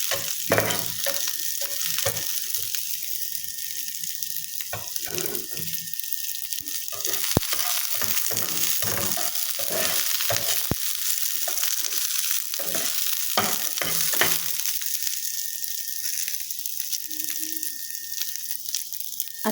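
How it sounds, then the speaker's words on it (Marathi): Chopped onion sizzles and is tossed in a pan for a soya chunks dish, with a constant hiss under irregular clinks and scrapes of stirring, close and without voices. "कांदा चॉप करून घेतलेला आहे. परतून घ्यायचं आहे, टॉस करून घ्यायचं आहे फक्त."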